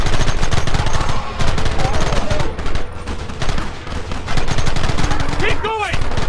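Dense, continuous gunfire in a Red Dead Redemption shootout, with overlapping rapid reports from several guns at close range, loud throughout, with faint shouting voices mixed into the din.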